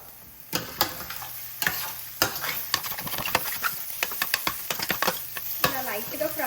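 Eggs seasoned with salt and pepper fry and are stirred in a pan for restaurant-style egg fried rice, with a steady sizzle broken by repeated sharp scrapes and clinks of the utensil against the pan.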